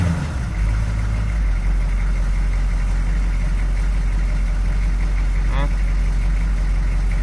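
6.2L diesel engine idling roughly, a steady loud low rumble close by with a faint voice over it.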